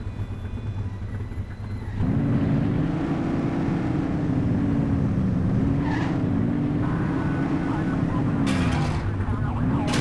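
A car engine drones steadily in The Precinct, a low humming tone that rises and falls slightly as the vehicle drives on, with an occasional faint click in the background and no talking.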